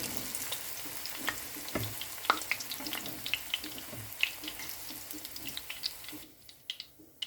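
Tofu frying in oil in a pan, a dense close sizzle with scattered pops and crackles that thins out and fades near the end.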